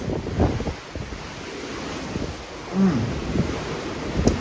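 Wind buffets the microphone on a ship's upper deck over a low roar of ocean waves and spray, with gusty swells and a brief tonal cry partway through.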